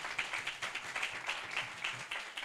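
A church congregation claps for a preacher, steady rapid applause from many hands filling the room, with no talk over it.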